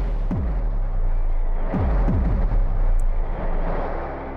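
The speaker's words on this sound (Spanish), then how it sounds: "A ver, qué ruido más raro, ¿no? Son fuegos artificiales, mira." Fireworks in the video game Moon Farming, set on the moon, whistle with several descending sweeps and then burst in deep, rumbling booms over a continuous low background drone.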